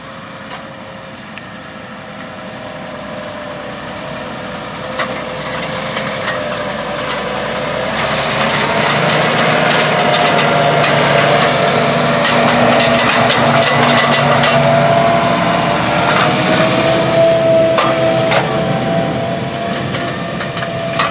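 A John Deere 8400R tractor engine drones throughout, towing a 2,600-gallon Unverferth NutriMax applicator, rising slightly in loudness midway, with mechanical rattles and clanks layered on top and no voices.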